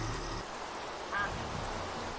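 A single short, faint duck quack in Minecraft, heard once over a low background hum.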